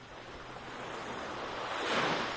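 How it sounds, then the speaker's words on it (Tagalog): Ocean waves washing onto a shore, a steady broadband surf wash that swells louder toward the end, with some wind noise across the microphone and no voices. "dahil maganda ang alon ngayon, hindi masyadong maalon"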